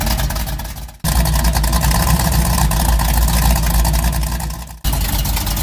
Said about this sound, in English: Exhaust leak because the headers didn't really fit.